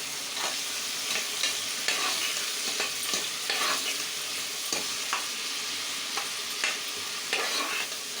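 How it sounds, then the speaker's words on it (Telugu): Green chilies and coriander fry in oil and ghee for chicken biryani, a steady close sizzle under repeated scraping stirs of a spoon against the pan. "దీన్ని చక్కగా ఈ ఆయిల్ అండ్ గీలో ఫ్రై చేసుకుందాం ఒక్కసారి కలుపుకుందాం"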